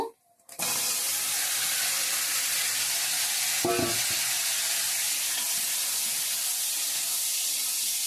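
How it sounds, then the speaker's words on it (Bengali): Beans and potatoes frying in a pan give a loud, steady sizzle that starts abruptly after a brief quiet moment and continues without a break, with a sharp crackle burst partway through. "এখন বিমস আলুটা ভাজা করব"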